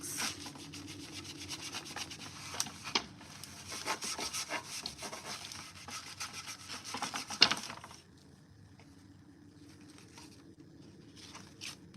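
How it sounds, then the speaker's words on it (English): Black wax is rubbed onto a thrifted wooden furniture piece, a steady close scrubbing rasp of cloth or brush on wood for about eight seconds, then near quiet with a few faint touches. "So we're just gonna come in and add the black wax."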